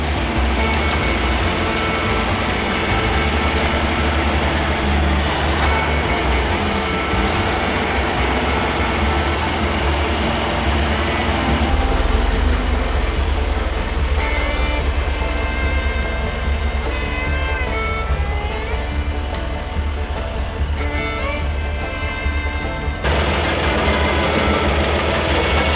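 An old John Deere 1020 tractor engine runs loud and close while backing up, a steady rough mechanical drone with a brief surge in the middle, no talking.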